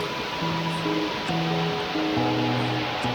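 Steady broadband rush of Khao Laem waterfall in Rayong, Thailand, heard from its top tier, loud and continuous, with faint tonal hums from distant engines or voices underneath.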